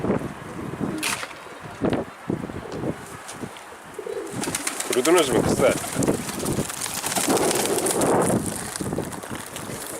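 Pigeons, including a runaway pigeon's flock with young nearby, coo in soft, rolling calls under a woman's speech, with a busy mix of close fluttering and handling noises.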